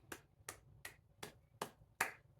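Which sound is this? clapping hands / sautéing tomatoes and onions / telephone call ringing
clapping hands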